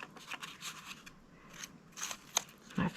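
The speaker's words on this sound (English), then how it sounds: "I'm going to tape here." Tape is applied to cardboard with soft, intermittent scratchy rubs and pulls, quiet and close, ending in a brief louder crinkle.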